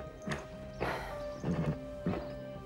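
Horse hooves in an animated series clip-clop in four distinct, evenly spaced beats, with whinny-like tones mixed in over a faint steady hum.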